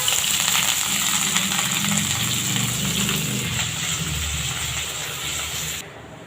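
Leafy greens dropped into hot oil with browned onions, a loud close sizzle and hissing steam that stays strong, then settles slightly before cutting to a quieter fry near the end.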